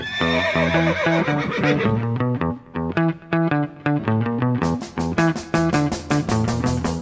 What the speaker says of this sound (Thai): เดี๋ยวเราจะพาเด็กๆไป ขี่ม้า